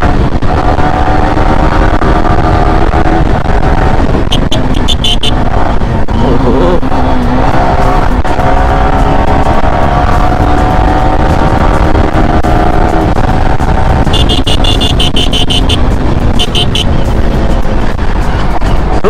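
A motorcycle engine, a Yamaha R15 V3 BS4, runs steadily on a dyno roller, a loud continuous drone with rising and falling harmonic tones throughout and brief revving swells.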